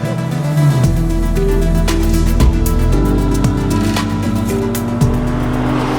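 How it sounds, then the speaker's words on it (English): A BMW M3 CS Touring four-wheel drive car driven hard on track, engine note climbing and dropping through gear changes with tire squeal, loud and close throughout. "Getting the most out of a powerful four-wheel drive car, like the BMW M3 CS Touring you see here"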